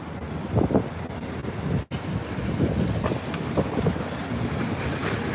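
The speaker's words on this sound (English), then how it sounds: "Yes, it's windy as well." Wind blows across a city street in New York City on a cold winter day, a continuous breathy rush and low rumble that pulses in gusts, briefly cutting out once partway through.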